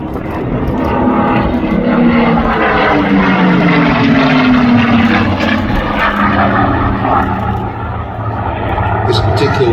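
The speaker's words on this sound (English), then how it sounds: "This particular aircraft is a Mark 19" A Supermarine Spitfire Mark 19 flying a display at the Midlands Air Festival, its engine a loud continuous drone that rises and shifts in pitch as it passes, with voices heard over it.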